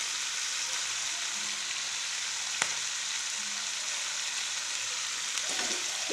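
Squid sizzles steadily while being stirred in a pan of sauce with onion, seasoning and ground pepper, with a steady broadband hiss, a couple of sharp clinks from the utensil, and faint low tonal sounds underneath.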